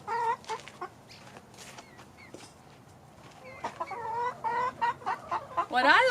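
Chickens clucking nearby in short, irregular bursts, growing busier and louder toward the end, with no talking.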